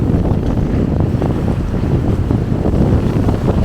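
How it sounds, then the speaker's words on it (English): Steady, heavy wind buffets the built-in microphones of a DJI Pocket 2 gimbal camera outdoors, a loud continuous low roar and rumble with no other sounds breaking through. "I just wanted to do one last wind test with the microphones."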